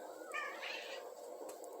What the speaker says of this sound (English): Get them cats out of here, please.